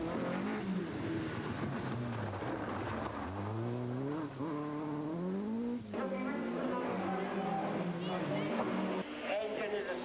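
A Ford Escort RS 1800 rally car at a rallysprint at Punchestown revs hard and shifts through gears, its engine note climbing and dropping repeatedly, loud and close, with commentary heard over it.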